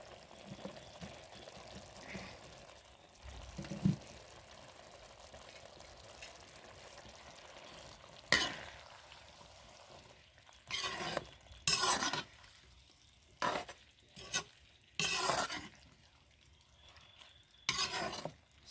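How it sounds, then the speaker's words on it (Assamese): Fried drumstick and potato are stirred in a pan, with a quiet background sizzle broken by several loud, close bursts of scraping and stirring in the second half. "এতিয়া এইখিনি মই যিখিনি ফ্ৰাই কৰি থলোঁ ছজনা আৰু আলুগুটি, এতিয়া মই ইয়াত দি দিছোঁ"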